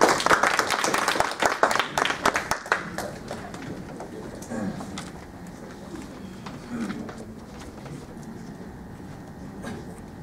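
An audience claps for a group presentation at a leadership fellowship event, with loud, dense clapping in the first few seconds that fades into scattered claps and murmuring room noise.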